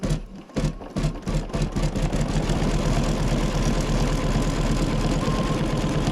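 A sewing machine runs a top stitch row, a steady fast mechanical whir and needle chatter that starts after a few hesitant bursts and continues evenly to the end.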